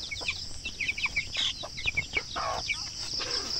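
Two-week-old broiler chickens cheep and cluck in a busy, overlapping chorus of short high calls over a constant hiss of background noise, nearby and moderately loud, with no talking.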